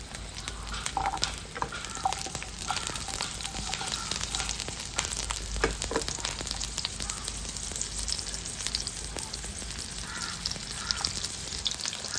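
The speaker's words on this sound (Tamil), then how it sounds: "ஃபர்ஸ்ட்டு சின்ன வெங்காயம் போடுறோம்" Small shallots hiss and crackle in hot oil, the start of a chicken kulambu base, with a steady dense sizzle and scattered pops throughout, close and unbroken.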